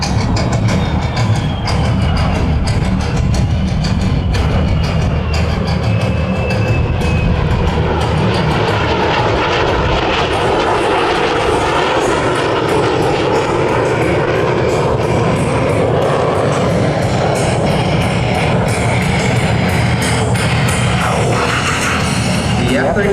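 An F-35B fighter jet engine roars during a short takeoff and vertical landing demonstration at the Singapore Airshow, a loud sustained broadband roar with shifting pitch that carries on for the whole stretch.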